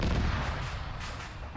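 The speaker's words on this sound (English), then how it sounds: "There's been a lot more explosions over here." Dense, continuous battlefield noise from Arma 3, with heavy booms of explosions and artillery fire mixed with gunfire, loud and sustained throughout without any speech.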